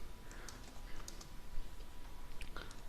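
Light, quiet keystrokes on a computer keyboard tap out in short irregular bursts, close up over a faint steady background hum, with no voices.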